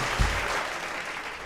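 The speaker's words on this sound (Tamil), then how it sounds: "கொடுப்பாங்கன்னா கைத்தட்டு கொடுங்க" Audience applause at a Tamil talk show debate, a dense wash of clapping from a crowd that stays steady and moderately loud throughout, with no voices over it.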